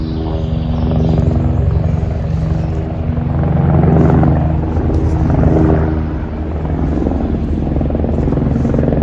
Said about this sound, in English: I started to hear a helicopter right above my head